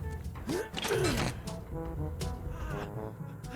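An exit gate in the horror game Dead by Daylight grinds open with a loud mechanical creak and gear-like rumble that rises, then settles into a continuous whirring.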